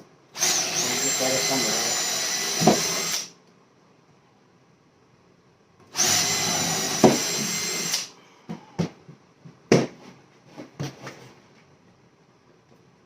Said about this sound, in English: I'm gonna run some wood screws, just regular old wood screws up through there